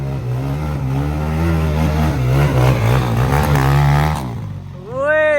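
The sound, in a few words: CX 250 dirt bike engine revving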